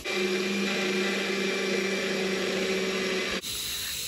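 A kitchen blender whirs loudly at a steady pitch as it purées cooked potato with cooking water and cream, then cuts off abruptly near the end, leaving a fainter hum.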